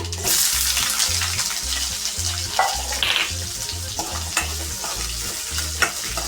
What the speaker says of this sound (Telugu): అది చిట్టపట అయిన తర్వాత కట్ చేసిన ఆనియన్ వేసుకుంటున్నాను